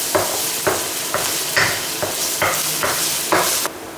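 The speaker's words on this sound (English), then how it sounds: "this is crushed garlic and ginger. I'm going to add in about 2 teaspoons. Let's just make it 3 teaspoons. Stir that around in the olive oil." Crushed garlic and ginger sizzling in olive oil in a pan as a utensil stirs them, a steady fry hiss broken by about eight rhythmic scraping strokes, close and alone.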